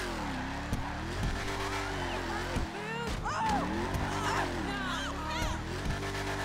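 An upgraded car in GTA 5 Online revs and drives hard, engine pitch sweeping up and down through gear changes, with tyre squeals and skids near the middle, loud and close under faint game background.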